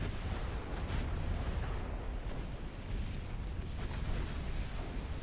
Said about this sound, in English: Torpedo detonation